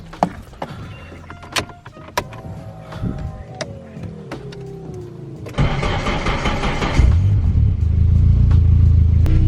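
Volvo 340 fitted with a boost controller: clicks and a whirring starter precede the engine catching, then a steady, loud idle rumble settles in as it warms up nearby.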